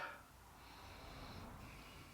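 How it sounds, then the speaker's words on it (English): A single quiet, drawn-out sniff close to the microphone, breath pulled in through the nose while smelling a Christmas beer. "Let's give this a bit of a sniff"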